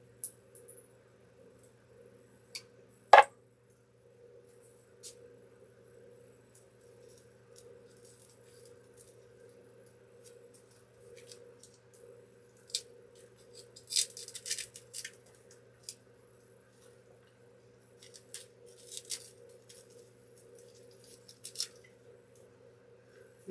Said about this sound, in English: So let me just trim these pieces down.